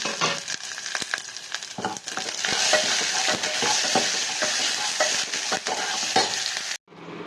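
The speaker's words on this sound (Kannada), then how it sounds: "ನಂತರ ಅರ್ಧ ಈರುಳ್ಳಿ, 2 ಮೆಣಸಿನ್ಕಾಯಿ ಮತ್ತು ಜಜ್ಜಿಕೊಂಡಂತಹ ಬೆಳ್ಳುಳ್ಳಿ ಹಾಕಿ ಚೆನ್ನಾಗಿ ಫ್ರೈ ಮಾಡೋಣ" Onion, two green chillies and crushed garlic fry with cumin in a pan for Andhra tomato dal. A dense, continuous sizzle runs under repeated spatula stirs and scrapes and cuts off abruptly near the end.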